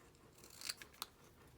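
Scissors snipping around the edge of a paper leaf in close, careful cuts: a few short, crisp snips in quiet surroundings, heard up close and faint.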